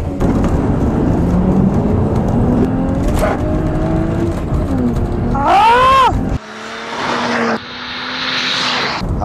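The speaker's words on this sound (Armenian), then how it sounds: "մենք կփորձարկենք այս մեքենայի արագացումը" A BMW M135i hatchback accelerates hard on the road, its engine note climbing steadily in pitch through the gears with a sharp shift, then dropping to a lower drone over wind and road noise.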